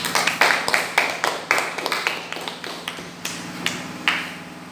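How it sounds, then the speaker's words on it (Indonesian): A classroom group claps in applause during a maths lesson, a quick run of sharp, uneven hand claps close by that thins into scattered claps over several seconds. "Beri aplaus"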